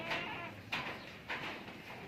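Goats bleat faintly in a pen at a rural goat house, with three or four short, quavering calls spaced about half a second apart, set against quiet farm background.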